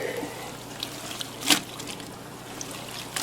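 Water trickles and splashes faintly onto a compressed substrate brick being soaked for an orchid terrarium, with a short louder pour in the middle against quiet background.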